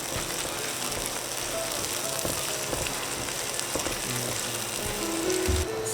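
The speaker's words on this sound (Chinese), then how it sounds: "再倒入葱花炒几下， 最后放入大葱翻炒增香。" Chopped scallions and leek stir-frying in a wok for mapo tofu, giving a continuous sizzle with occasional clicks and scrapes of the spatula.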